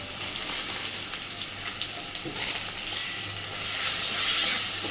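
Gobindobhog rice tipped into a frying spice paste, a soft continuous sizzle and hiss with a brief stirring rustle, growing slightly louder toward the end, close and fairly quiet.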